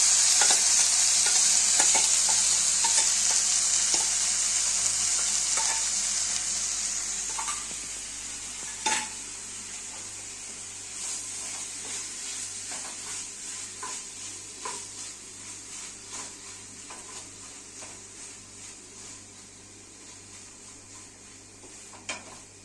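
Mashed carrot cooking in ghee for carrot halwa, a steady bright sizzle that slowly fades, with occasional scrapes and clinks from stirring in the pan; no talking.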